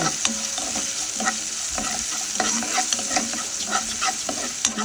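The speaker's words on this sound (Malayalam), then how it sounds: "ഉള്ളിയെല്ലാം അതിനകത്തോട്ട് കട്ടിയിട്ട് കൊടുത്ത് അത് നന്നായിട്ടൊന്ന് വഴറ്റി" Chopped onions and urad dal sauté in a pan, with a constant frying sizzle. A spoon scrapes and taps against the pan again and again in an uneven rhythm, close and clear, with no talking.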